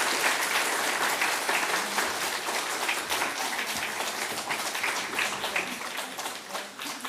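Loud, sustained applause from a church congregation in a reverberant room, many hands clapping steadily for several seconds as flowers are presented during a Sunday service.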